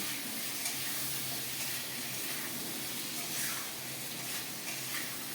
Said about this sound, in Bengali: একটু ভালো করে একটু ভাজা ভাজা করব, খুব কড়া ভাজা না, কিন্তু বেশ একটু লালচে লালচে হবে।